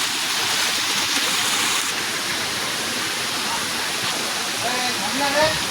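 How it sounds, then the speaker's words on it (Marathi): Steady rushing water flows throughout, a broad continuous wash like a stream or small waterfall, with a voice speaking faintly over it near the end. "पुढे पाणी हे पा कसं पाणी येतं"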